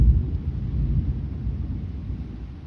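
Low, rolling thunder from an electrical storm rumbles steadily, loudest at the start and easing off slightly as it continues, with no voices over it.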